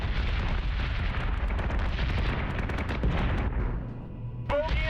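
Heavy ship weapons fire in Battlestar Galactica Deadlock: dense, rapid volleys of booming shots and blasts that pound on loudly and steadily for the whole stretch, with no voices.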